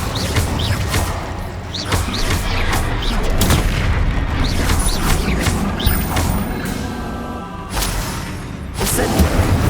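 Spell blasts from Bombarda, Confringo and Incendio ripple through a Hogwarts Legacy video game battle: a dense, loud run of booms, crashes and thuds, with sharp impacts repeating every second or so over a steady rumbling bed.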